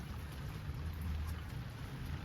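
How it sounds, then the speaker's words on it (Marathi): Steady heavy monsoon rain in Konkan pours down in a dense, even hiss, moderately loud, with a low rumble underneath and no voices. "काय पाऊस भरपूर पडायला लागला"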